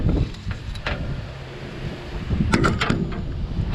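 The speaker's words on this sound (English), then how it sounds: "It's so freaking windy today." Strong wind blows across a hilltop farm field during the soybean harvest, rumbling and buffeting the microphone steadily for several seconds, with faint knocks and rattles near the end.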